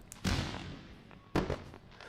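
Fireworks sound effect played during a livestream celebration: two sharp booming bursts about a second apart, each trailing into crackling rumble over a steady noisy background.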